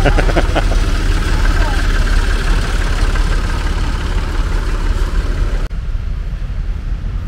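A tractor engine idles at a Blarney Castle tractor and classic car rally in Ireland, a steady low rumble running close and loud, with people talking nearby and the noise dropping away near the end.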